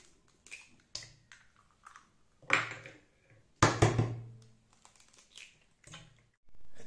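Three eggs cracked one after another into a bowl, each a sharp tap and crack followed by a soft drip, close and fairly quiet, with light clinks between them and no talking.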